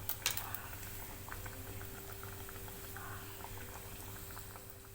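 A chicken burger patty frying in oil in a kadhai, a steady soft bubbling and crackle that carries on evenly throughout with no talk.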